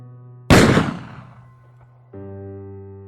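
A single sharp gunshot rings out, loud and close, then decays into a rolling echo before a steady low tone resumes underneath, like a sound effect placed in a dramatized story.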